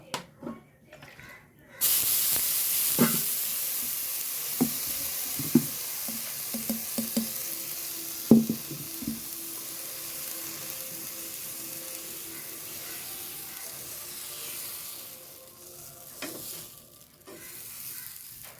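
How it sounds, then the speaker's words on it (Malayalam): Wheat dosa batter poured onto a hot pan, a sudden loud sizzle that settles into a steady hiss with small crackles, fading near the end. "ഒരു ദോശയും കൂടെ നമുക്ക് ഇതിൽ ഒഴുക്കി ഒഴിച്ചു കൊടുക്കാം"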